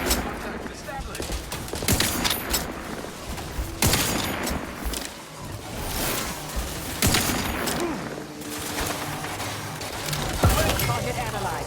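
Gunfire in an Outer Worlds 2 firefight: repeated sharp bursts and shots crackle throughout, loud and close, with in-game voices talking over the shooting.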